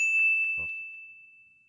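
A single bright phone notification ding, announcing a newly sent password in a cartoon, strikes clearly and then rings out in a long, slowly fading tone with no talk over it.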